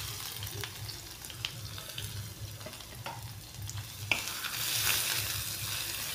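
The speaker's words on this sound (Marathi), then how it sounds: "थोडा फ्राय करून घेऊ।" Crushed garlic frying with spices in a pan, a quiet continuous sizzle broken by light taps and scrapes of stirring, swelling slightly louder near the end.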